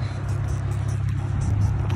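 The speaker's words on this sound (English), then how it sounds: "His car starts without him being in it. He just starts it from the remote." Car engine started by remote starter, heard as a close, low idling rumble that holds steady and swells slightly toward the end.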